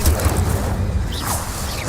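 A fire spell cast in the Hogwarts Legacy battle arena, a steady roaring whoosh with low rumbling body that holds loud and even for the whole stretch.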